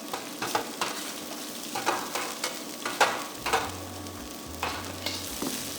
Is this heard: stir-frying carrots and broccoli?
yes